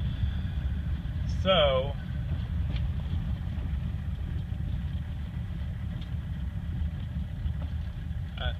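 A 1985 Mercedes 300D turbo diesel drones steadily from inside the car while driving, a low continuous engine rumble with a brief whine, and someone speaks a word over it.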